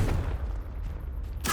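A Confringo fire-blast spell in Hogwarts Legacy goes off as a low booming rumble, with a sharp crackling burst at the end.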